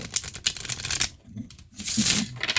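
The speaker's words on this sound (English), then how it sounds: "So we can get a good shuffle." A deck of oracle cards is shuffled by hand in two bursts of crisp riffling and flapping, close and clear, with a short pause between them.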